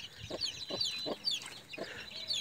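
Newly hatched chicks cheep in rapid, high-pitched peeps, several overlapping, with soft low clucks underneath.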